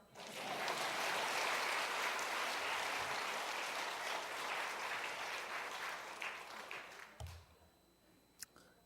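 A church congregation at a Methodist revival service claps in a loud, sustained round of applause lasting about seven seconds, then it tapers off into a few scattered claps and quiet room noise.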